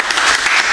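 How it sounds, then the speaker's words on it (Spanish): A short, loud burst of dense audience applause, close and continuous throughout, with no voices over it. "Fuerte aplauso para nuestra querida brujita,"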